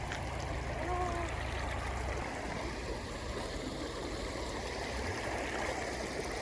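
A cold, clear Carpathian mountain river near the village of Mykulychyn rushes in a steady, even hiss of flowing water, heard fairly softly and with no voices.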